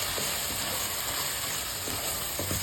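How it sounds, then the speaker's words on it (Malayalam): Masala for mutton curry, spiced with Kashmiri chilli, frying in a pan while it is stirred: a steady broad sizzle with a few soft scraping stirs, close and continuous, no voices. "നല്ലവണ്ണം ഇളക്കുക."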